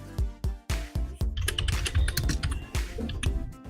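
Rapid keystrokes on a computer keyboard, typing a command into the Counter-Strike: Global Offensive console; sharp, close clicks in quick bursts with a few heavier key thumps, no talking.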